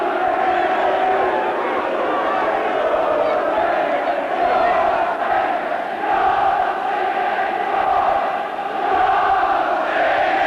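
A packed football stadium crowd at Oxford United v Everton roars and chants in a dense, continuous wash of cheering that swells and dips, heard from within the stands with a faint voice underneath.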